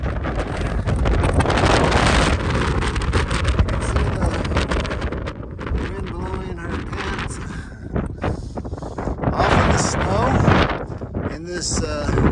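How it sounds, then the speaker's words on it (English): Strong wind buffets the microphone on a snowy mountain hike up Mt. Shavano, a loud continuous roar with gusty surges throughout. "You can see the wind blowing"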